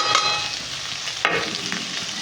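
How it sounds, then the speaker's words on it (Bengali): Mustard greens are fried in a pan with ginger, chili, turmeric and salt, giving a close, continuous sizzle with a couple of scraping stirs across a short stretch. "দিয়ে একটু ভাজা দেখে কষে নেবো।"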